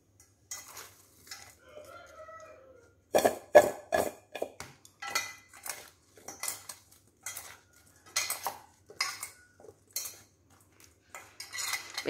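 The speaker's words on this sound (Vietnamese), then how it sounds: "Bây giờ mình trộn lên." A spoon stirring sugar and seasoning powder in a bowl while cooking a vegetarian curry, with bursts of metallic scraping and clinking in an uneven rhythm, close and clear, separated by short pauses.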